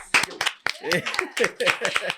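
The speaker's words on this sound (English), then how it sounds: "Can we get some claps?" An audience in a room claps on request, a burst of sharp, uneven hand claps mixed with a voice talking over them.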